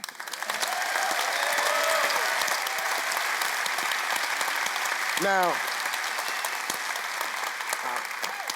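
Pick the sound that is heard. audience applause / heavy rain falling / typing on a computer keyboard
audience applause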